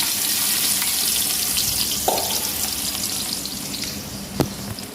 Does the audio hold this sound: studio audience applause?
no